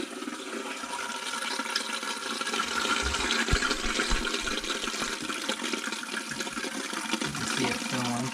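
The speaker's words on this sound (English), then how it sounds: "See it filling." Water rushes steadily into a toilet tank, a continuous hissing fill at moderate volume with no talking.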